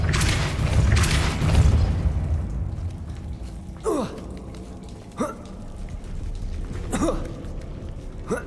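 Depulso force spell cast in Hogwarts Legacy: a heavy booming burst at the start, followed by several sharp whooshing magical bursts spaced a second or two apart against a quiet ambient background.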